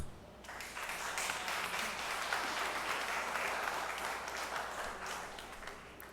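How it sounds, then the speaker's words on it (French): An assembly at a nursing school capping ceremony applauds warmly, steady crowd clapping that rises quickly and stays even throughout, heard at moderate distance in a large hall with no speech on top. "je demande à l'Assemblée de vous applaudir"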